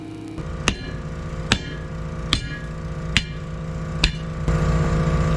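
Hammer blows knocking rust scale off old 1960s Galion grader parts, five sharp metallic strikes at a steady, roughly one-second rhythm over a low background hum.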